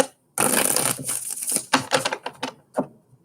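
Tarot cards are riffled and shuffled close by, a burst of rapid flapping followed by several shorter shuffles and taps.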